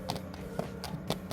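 Knuckles tap the bottom of a freshly baked, well-browned egg-washed challah loaf, producing about five short hollow knocks in an uneven rhythm, close and moderately loud.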